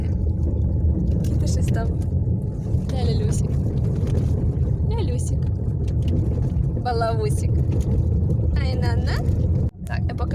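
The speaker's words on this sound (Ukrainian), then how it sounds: "бо дуже сильно шумить дорога" A car drives along a village road, its tyre and engine rumble forming a steady low roar with wind buffeting, while someone talks over it throughout.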